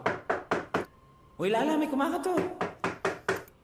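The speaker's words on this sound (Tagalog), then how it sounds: "Lala, may kumakatok" Knuckles rap on a door in two quick sets of sharp, evenly spaced knocks, about four per set, with a voice talking in the gap between them.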